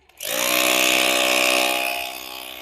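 A Pumpkin-brand rotary hammer drill starts abruptly and runs at a loud, steady whine for a couple of seconds, tapering slightly at the end.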